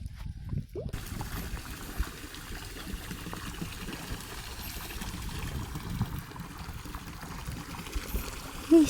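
Water pours into a container in a steady, close trickling splash that runs continuously, with a brief louder bump near the end and no clear talking.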